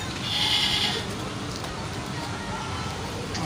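A goat bleats at a livestock market in Karachi: one bleat near the start, then steady bustle, sitting under loud crowd noise and talk.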